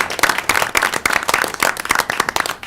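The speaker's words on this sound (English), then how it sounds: "let's give him a big round of applause" Board and cable commission members applauding Bill for 35 years of service, a close, lively round of individual claps from a small group, fairly uneven in rhythm.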